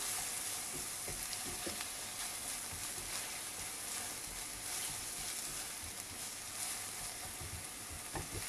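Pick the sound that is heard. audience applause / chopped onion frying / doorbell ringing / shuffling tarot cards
chopped onion frying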